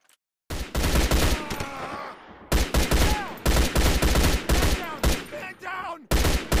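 Rapid bursts of loud gunfire ring out in the Fusion War mobile shooter game, with short gaps between volleys and synthetic voices calling out over the shots.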